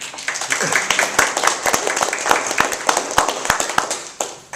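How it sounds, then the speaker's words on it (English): Audience applause at the close of a higher-education presentation: steady clapping from a small group, close and fairly loud, with sharp individual claps over a dense wash, lasting several seconds before tapering off. "I guess we should clap at this point."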